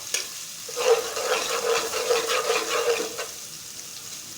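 Ground garlic frying with browned onions in a pan for mutton kofta biryani, a steady close sizzle with soft stirring that swells for a few seconds and fades away.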